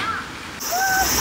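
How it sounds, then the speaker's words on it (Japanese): Flowing river water washes past in a steady, close, broadband rush, with a brief thin tone drifting over it in the second half. "最高やな、この水の音も綺麗。"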